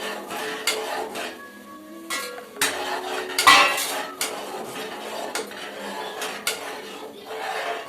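A sweet being stirred in a pan with a metal spoon, producing repeated scraping and clinking strokes at an irregular pace, close and fairly clear.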